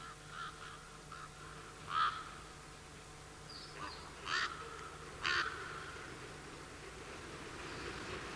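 Ravens calling in a pine forest on La Palma in the Canary Islands, a few harsh croaking calls spaced apart at moderate distance over a faint steady background hum.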